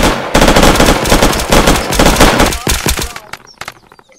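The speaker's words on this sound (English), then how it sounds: "Fucking Boris came out of nowhere, shooting everybody." Sustained automatic gunfire from the video game Unturned rattles in loud, rapid bursts for about three seconds, then thins into a few scattered shots near the end.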